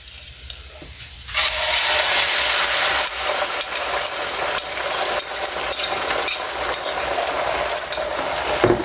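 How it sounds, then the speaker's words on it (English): An egg is added to a hot pan with bacon for migas, and loud, steady sizzling and frying starts after a quiet second, continuing with faint scraping and stirring and no talk. "I'm going to go ahead and add the egg in."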